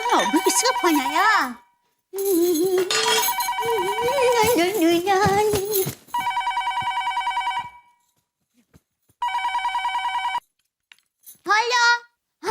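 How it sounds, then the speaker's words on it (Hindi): A telephone rings in two bright, electronic trilling bursts, separated by silence, following stretches of a woman singing with musical accompaniment in a home setting. "अभी किसका फोन आया?"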